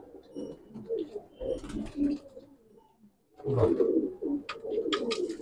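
Madrasi pigeons in a loft give repeated low, throaty coos in overlapping bursts, close by, with a short lull midway and a few faint chirps.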